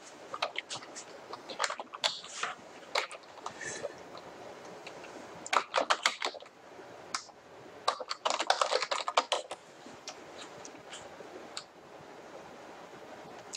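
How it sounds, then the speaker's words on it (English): Quick irregular bursts of keystrokes on a computer keyboard while an address is entered into a property search, faint clicks clustered in rapid runs with short pauses between them. "find specific properties just by typing in the address"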